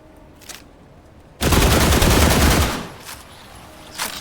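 Pistol fire in The Last Caretaker, a survival video game: a dense, loud burst of rapid gunshots lasting about a second and a half, fading into a fainter tail, with a few softer isolated shots before and after.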